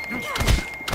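A single dull, close thud of a fist landing on an opponent in a Call of Duty fists-only boxing match, brief and heavy.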